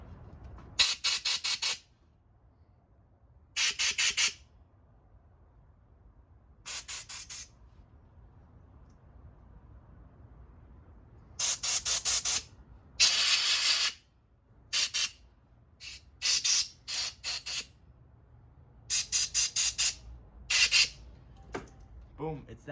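An air compressor nozzle blowing bursts of air while a Honda Spree scooter is being fixed, short loud hissing blasts separated by pauses, some in rapid clusters, close by.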